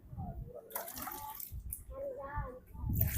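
Water is poured and splashes to rinse something, a soft running wash with people talking over it.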